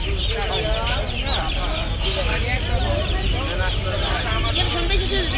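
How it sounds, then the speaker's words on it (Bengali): Chickens and chicks clucking and cheeping at a busy poultry and pigeon market in Hemayetpur, a dense, steady chorus of bird calls mixed with loud crowd chatter and background noise throughout. "সব ধরনের মুরগির বাচ্চা এখানে পাওয়া যায়।"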